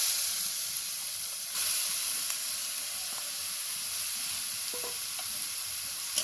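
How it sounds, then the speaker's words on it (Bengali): Grated green papaya goes into hot oil with fried whole-spice tempering for a chutney, giving a steady, soft sizzle and hiss with a few faint spoon-scrape clicks as it is stirred, close and continuous, no voices. "এবারে এর মধ্যে দিয়ে দেব গ্রেট করে রাখা পেঁপে।"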